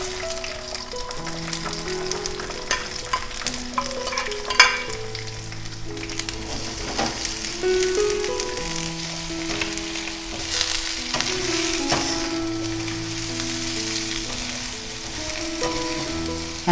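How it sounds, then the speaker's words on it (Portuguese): Mixed vegetables stir-frying in oil in a small, crowded wok, a steady loud sizzle and crackle with stirring scrapes and background music throughout. "Agora nesse mesmo óleo eu vou colocar os legumes"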